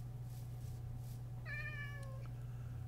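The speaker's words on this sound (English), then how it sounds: "I got a kitty cat waiting for me to adopt." Cat in the Minecraft-style game DB Craft gives a single clear meow, drawn out and tonal, over a constant low electrical hum and faint ambient background.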